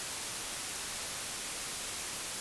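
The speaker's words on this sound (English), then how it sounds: "So I'm going to take the white noise out, which is this top outlet." A modular synthesizer's noise module puts out steady white noise, a constant full-band hiss that stays even and unchanging, heard alone without speech.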